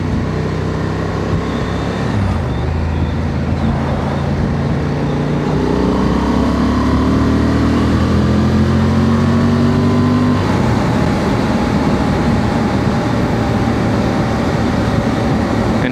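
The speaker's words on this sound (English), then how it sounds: "Hopefully today you can hear the roar of the engine a little bit more." A 2025 Honda Transalp SP motorcycle engine roars continuously while riding, pitch rising and falling as it revs, with steady wind rush over it.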